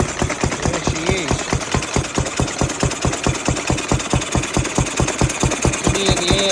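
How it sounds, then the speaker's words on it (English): A Ruston 6PS stationary petrol engine runs after a belt start, a loud, close, steady rhythmic chuffing and knocking beat at a brisk even pace that continues throughout. "I have the Ruston now running after a good long belt start."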